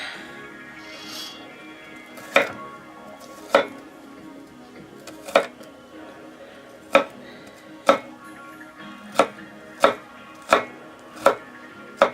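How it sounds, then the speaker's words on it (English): Escarole and bean soup ingredients being chopped finely with a knife on a board, about ten sharp, clear knife strikes at an uneven, unhurried pace over quiet room ambience, no talking. "Get that chopped nicely. Chopped pretty fine."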